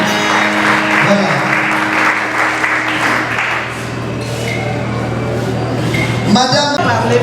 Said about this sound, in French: Acclamez encore pour elle, acclamez pour elle.